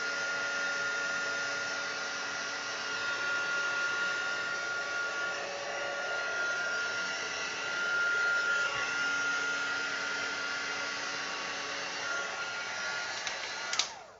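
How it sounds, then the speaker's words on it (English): A steady, loud motorized whir of a hair dryer blows continuously, cutting off abruptly near the end. "sound of the dryer."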